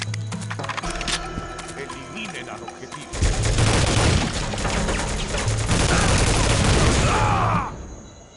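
Heavy gunfire from the PC shooter Soldier of Fortune II: Double Helix, with bursts of automatic fire and booms that grow louder and denser midway, then cut off near the end.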